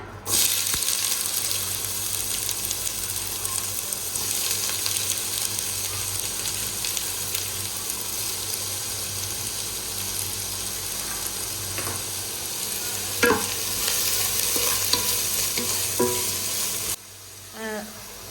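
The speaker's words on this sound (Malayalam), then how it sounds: "വെളിച്ചെണ്ണ ഒഴിച്ചു ചൂടായി അപ്പം ഞാൻ ഉള്ളി ഇടാൻ പോവുകയെന്നേ" Chopped onions frying in hot coconut oil, giving a loud, steady, close sizzle that runs almost unbroken, with a few faint clinks, then cuts off abruptly near the end.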